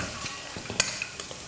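Oil-fried peanuts being mixed into raw mango rice produce a low background sizzle with a few quick, scattered spoon scrapes and clinks, one sharper knock standing out, and no talking.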